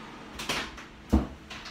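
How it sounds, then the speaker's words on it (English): A household door bumps shut: a soft knock, then a sharper wooden clunk about a second later, fairly close and moderately loud, with no talking. "Ugh, that door."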